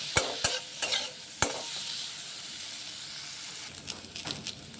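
Spices fry with a pinch of sugar in a pan while a fish curry with papaya is being made; a few sharp spatula taps come first, then a faint, even sizzle.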